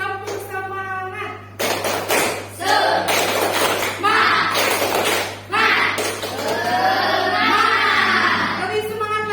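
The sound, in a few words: class doing the rhythmic 'tepuk semangat' clap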